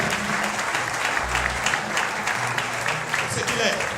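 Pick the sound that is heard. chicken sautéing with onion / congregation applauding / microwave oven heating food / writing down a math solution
congregation applauding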